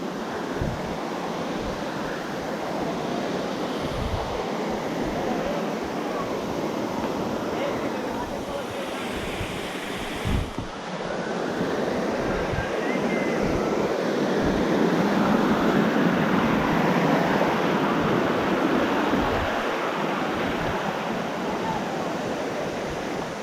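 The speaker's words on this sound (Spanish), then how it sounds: "Hemos llegado a una cascada inmensa." The large Cascada La Gritona waterfall in the Bonao jungle roars as a continuous, loud, broadband rush of falling water close by, with voices faintly audible beneath it and a brief bump of wind or handling noise midway.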